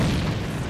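An enemy grenade explodes in the shooter game AVA: a loud, dense boom that fills the whole brief moment with a rumbling low roar.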